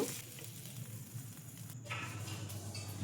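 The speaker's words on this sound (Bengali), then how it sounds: "এপিট ওপিট করে একটু ভালোভাবে ভেজে নেব।" Chicken pieces for butter chicken fry lightly in a pan, a soft, steady sizzle heard faintly and close by without any talking.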